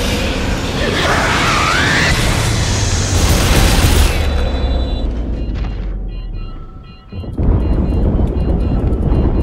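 A big explosion rumbles through a Dead Space 2 scene, a dense roaring blast that stays loud for several seconds before dropping into a brief lull and then a renewed wash of heavy noise.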